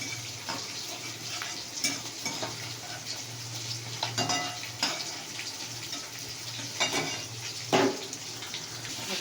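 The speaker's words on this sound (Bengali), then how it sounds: "মাছটা ভাজা হয়ে গেছে, আমি তুলে নিচ্ছি" Oil sizzles steadily in a pan as fish fries, with occasional scraping and clinking of a utensil over the constant hiss.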